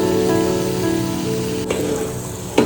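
Leafy greens going into a hot frying pan, giving a steady sizzle and crackle with a couple of sharp clatters near the end.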